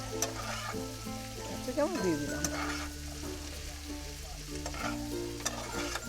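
Chopped capsicum fries in a pan over onions for vegetable fried rice, a close, lively sizzle broken by repeated spatula scrapes and stirring knocks, with a brief louder stir near the middle.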